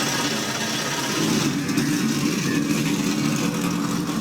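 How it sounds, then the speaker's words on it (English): Several Can-Am Pro Series race car engines at Thompson idling and rumbling loudly together at the race start, a dense continuous roar with slight revving swells. "the beautiful sound of those engines have been fired up here"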